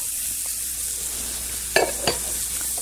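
Sliced onion and carrot frying in a pan give a faint, steady sizzle, with two sharp stirring scrapes near the end, close by and without voices.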